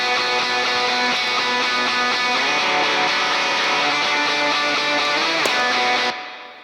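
Electric guitar lead played through the Neural DSP John Mayer X amp plugin with studio reverb and a Ribbon 57 on the cabinet: sustained, thick distorted notes ringing loudly and steadily before cutting off abruptly near the end.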